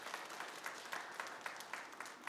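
A church congregation applauds a newly baptised member during a Sunday worship service, with faint, distant clapping pulsing in a loose, even rhythm through the sanctuary.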